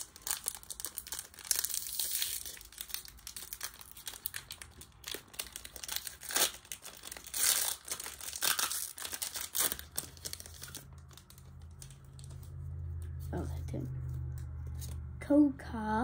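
A Pokémon Astral Radiance booster pack is torn open, with crinkling foil and tearing bursts over the first ten seconds, then a low rustle as the cards are handled while someone speaks quietly.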